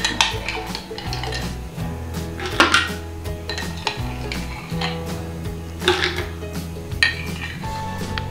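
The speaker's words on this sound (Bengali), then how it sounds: "এবারে বরফের টুকরোগুলো দিয়ে দেবো।" Ice cubes going into glasses of apple milkshake, heard as repeated clinks and clatters of ice and glass against a steady low hum from the kitchen, close and moderately loud.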